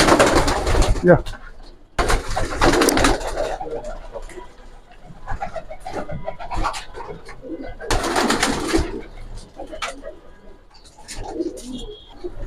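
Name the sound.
pigeons cooing, grizzle racer pigeons for sale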